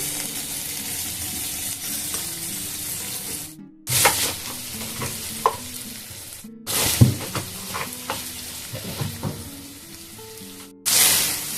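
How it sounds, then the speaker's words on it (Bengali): Cumin, coriander, turmeric and a little sugar fry in a pan over a medium flame, giving a close, steady sizzle with stirring scrapes, broken by a few brief silent gaps. "জিরে, ধনে, হলুদ আর একটু 2 দানা মতো চিনি দিয়ে এবার আমি এগুলোকে সব ভালো করে অন্তত 2 মিনিট মিডিয়াম ফ্লেমে কষিয়ে নেব"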